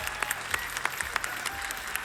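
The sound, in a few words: audience applause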